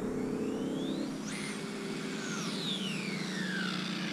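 A tuned Toyota MR2 pulling away at around 40 mph, a steady whirring drive with high whining tones that rise, peak sharply and then slide down as it passes and recedes, with no one speaking.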